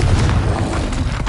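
Confringo fire spell blasting in the Hogwarts Legacy video game, a loud continuous booming explosion with deep rumble that fills the whole short moment.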